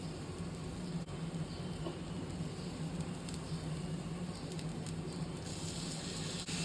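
Jaggery tipped into a hot pan and stirred, giving a steady soft sizzle and scraping hiss that runs continuously at close range with no talking.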